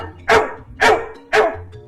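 A dog barks happily three times in an even rhythm, each bark loud and close, with short quiet gaps between them and no one talking.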